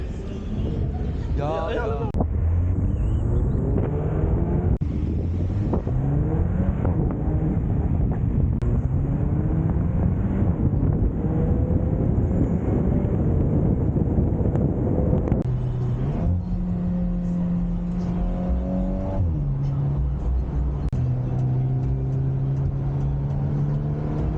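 A car speeds along with strong wind noise and a steady engine roar that rises and shifts in pitch, close and loud throughout, with voices talking over it.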